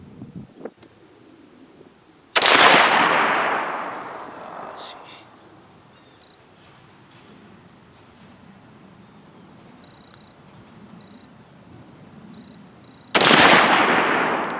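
Two loud, close rifle shots from a Joint Force SPR precision rifle fired outdoors, each a sharp crack followed by a long rolling echo that fades over several seconds, with faint wind between them.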